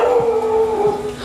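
A dog howls close by, one long, loud, wavering tone held steadily before tailing off.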